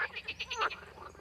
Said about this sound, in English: At the time of reproduction, the males croak with all their force to attract females by swelling their vocal sacs